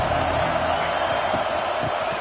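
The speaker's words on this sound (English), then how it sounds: "This crowd ready to make its presence known" A football stadium crowd makes a steady, loud roar of cheering that fills the whole stretch without pause, with faint voices mixed into the din.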